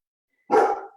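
A pet dog gives a single loud, close bark that fades quickly, after a stretch of silence.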